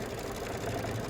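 Long-arm quilting machine stitching an edge-to-edge quilting pattern, a steady low motor hum with fast even needle chatter running continuously through the short stretch, fairly quiet and close.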